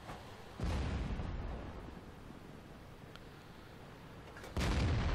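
A tank cannon in World of Tanks fires in a heavy boom near the start, followed by a long rumbling roar and a second loud blast near the end as an enemy tank is destroyed.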